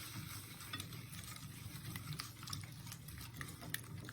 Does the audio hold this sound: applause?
no